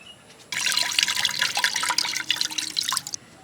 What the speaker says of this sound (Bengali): পেয়ারা ধুয়ে দিই একটু